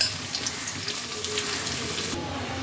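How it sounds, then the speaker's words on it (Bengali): Garlic fries in hot oil with a soft, steady, hissing sizzle close by for a few seconds, without any talking. "রসুনটাকে এবার তেলের মধ্যে একটু ভেজে নিতে হবে।"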